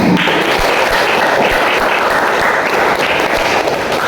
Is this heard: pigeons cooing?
no